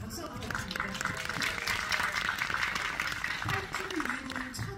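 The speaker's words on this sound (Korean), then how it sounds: "박수 부탁드립니다." An audience at a Korean film screening and guest talk applauds steadily in a hall, a dense wash of clapping that continues for several seconds while a voice speaks over it.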